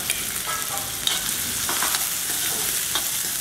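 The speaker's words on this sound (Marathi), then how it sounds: "तेल गरम झालेलं आहे, ह्याच्यामध्ये आपल्याला कांदा घालायचा आहे" Finely chopped onion sizzling in hot oil in a pan, a dense, even frying hiss with soft stirring scrapes now and then, close and steady throughout without speech.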